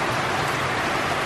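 Heavy, unceasing rain from a super typhoon pours down in the Philippines, a dense, steady hiss of drops filling the whole moment with no break.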